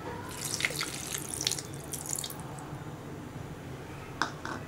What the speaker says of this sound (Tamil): ஒரு அரை கப் தண்ணி ஊற்றிக்கலாம்.